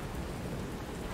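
A brief stretch of heavy rain in the game Lies of P, a loud, continuous hiss of falling water with a low rumble underneath and no voices.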